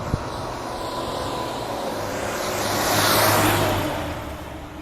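A big truck rumbles past outdoors. The roar swells steadily to a peak and then begins to fade, with no voices over it.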